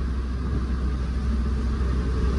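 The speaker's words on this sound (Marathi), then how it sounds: "बघा आपली गाडी चालली 80 ने आणि पिनू मामा बघा पुढे चाललेत." Constant low rumble of a pickup vehicle cruising on the road at about 80 km/h, steady engine and road noise heard from inside the cab with no talk.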